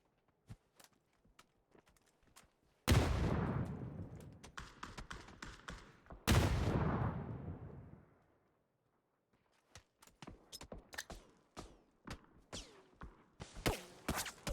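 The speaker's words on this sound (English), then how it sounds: "The nades coming over." Grenades going off in the PUBG video game: two heavy, booming blasts a few seconds apart, each fading slowly, amid scattered light taps and footsteps.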